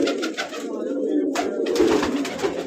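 Several unpainted pet pigeons coo in a steady, overlapping chorus at close range, the low murmuring calls continuous throughout.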